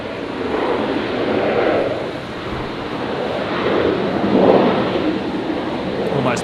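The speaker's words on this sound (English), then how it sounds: "Pretty hard touchdown there on the, especially on the nose gear" A passenger airliner touches down hard on its nose gear at Brisbane Airport. A broad, steady roar and rumble with wind noise swells and fades at a distance, with no clear single impact.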